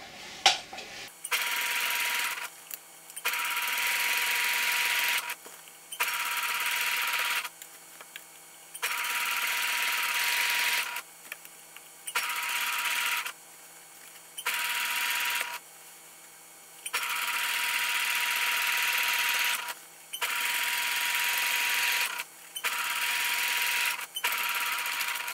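A sewing machine stitches a bib apron in repeated bursts of steady, fast mechanical whirring separated by short pauses, close and clear, with no talking.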